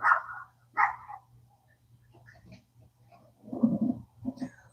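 Several neighborhood puppies bark and yip in short bursts, two sharp barks early and a rougher cluster near the end, with quiet gaps between and a low steady hum underneath.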